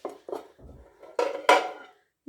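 Large ceramic plates are handled, giving several short clinks and clatters of dishware at close range, spaced irregularly with brief pauses between them.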